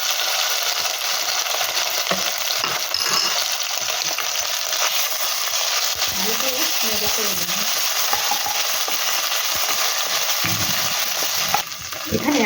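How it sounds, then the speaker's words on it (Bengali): Bay leaf and ginger-garlic paste frying in hot oil for a jackfruit curry, a steady loud sizzle throughout with occasional stirring scrapes near the end. "এই তেলেতেই আমি দিয়ে দেবো একটি তেজপাতা, আর দিয়ে দেবো আদা রসুনের পেস্ট"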